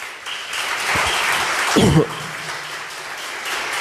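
A church congregation breaks into applause during a sermon, a moderate wash of clapping with a brief louder burst near the middle, fading into softer scattered claps.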